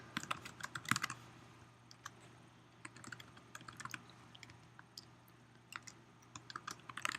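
Computer keyboard typing in quick, uneven bursts of close clicks and taps, with short pauses between runs of keystrokes and a steady low hum beneath.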